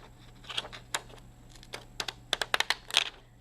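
Quiet, irregular snips and crisp clicks of decorative fun scissors cutting out paper cards, with a few faster clustered cuts near the end, close by over a low steady hum.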